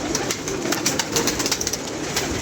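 A flock of large pigeons coos in a keeper's loft, a continuous layered murmur with bursts of wing or scratching noise throughout.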